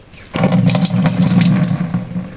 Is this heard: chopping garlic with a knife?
no